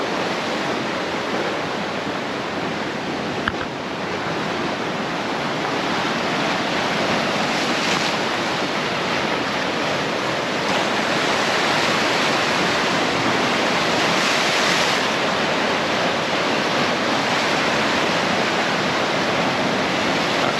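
Sea waves wash steadily against the rocky Mallorca coast at Portals Nous, a continuous broad roar with gentle swells and some wind rumble, no voices.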